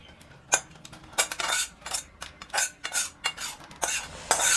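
Boiled gourd leaves tipped into a basket to drain, giving a run of wet, splashing bursts with light clatter, irregular and close, with no talking.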